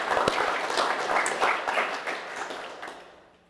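Employees at an all-team company update give a round of applause, a short burst of individual claps close by that tapers away within a few seconds.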